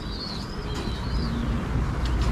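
Racing pigeons coo softly in a loft on a race day, with a few faint chirps and rustling over a steady background hum, heard briefly and at moderate distance with no speech.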